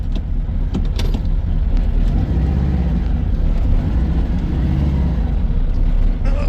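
A turbocharged Volkswagen with fuel injection drives out across a parking lot, its low steady engine rumble heard from inside the car with a few small clicks and knocks.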